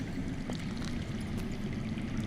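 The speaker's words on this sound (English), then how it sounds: "That's water. I hear water. From underground." Water flowing underground in Telltale's Game of Thrones, heard as a steady, broadband rushing stream that holds constant and fairly loud throughout, with no voices over it.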